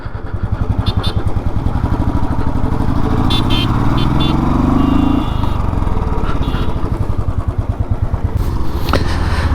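A Bullet 350 motorcycle climbing a hill road, its loud single-cylinder engine thumping in a rapid, steady beat close by, with the revs rising and then settling, alone without talk.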